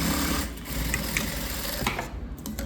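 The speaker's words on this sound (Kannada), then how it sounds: "ಚೆಕ್ ಮಾಡಿದ ನಂತರ ನೀವು ಈ ರೀತಿ ರೌಂಡಾಗಿ ಹೊಲಿಗೆ ಹಾಕೊಂಬಂದಿದ್ದ ಅಷ್ಟೇ." A sewing machine stitching a round neck lining on a chudi, a steady close whirring run of stitches that carries on without a break.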